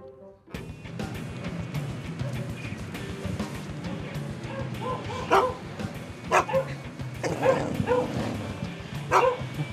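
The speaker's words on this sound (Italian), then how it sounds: "Ma perché dovete abbaiare sempre agli altri cani?" Dogs bark repeatedly at other dogs, sharp close barks and yips in irregular bursts, some whimpering mixed in, with a loud cluster near the end.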